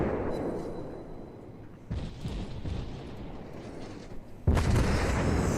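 Naval gunfire from the game World of Warships, deep booming blasts from an IJN cruiser battle, with a few heavy shots rising out of a constant low rumble.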